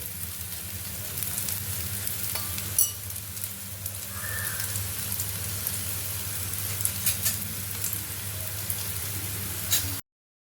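Spinach paratha frying in oil on a griddle, a steady close sizzle that runs evenly throughout with a few small pops and crackles.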